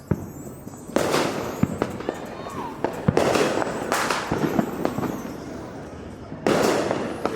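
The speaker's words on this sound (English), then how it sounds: "They ain't run out of fireworks yet." Fourth of July fireworks bursting in Allentown, a series of loud, sharp explosions and crackling pops that come in repeated volleys over a steady background roar, with a few voices faintly audible between blasts.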